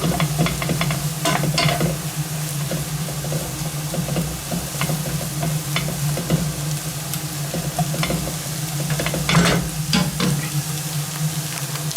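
Leeks and other vegetables soften in a hot pan before going into a stew, giving a steady close sizzle and frying hiss with occasional scrapes and stirring clatters and a low hum underneath.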